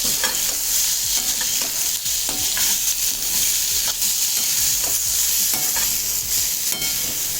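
Tomatoes fry in a pan for tender jackfruit sothi, a steady loud sizzle running throughout with repeated scraping strokes of a spoon stirring them.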